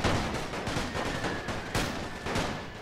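Rifle and machine-gun fire on a World War One battlefield with Italian troops close to the lines, rapid overlapping bursts and sharp shots crackling continuously, moderately loud with no voices.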